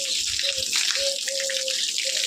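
Water splashes and gushes steadily nearby as buffaloes are bathed, with a faint intermittent high tone running over the sloshing.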